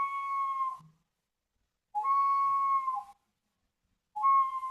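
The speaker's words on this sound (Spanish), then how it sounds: "Es una vasija silbata." An Andean ceramic whistling vessel sounds three sustained, pure whistle tones, each about a second long and separated by silence, steady and close with a slight pitch dip at the ends.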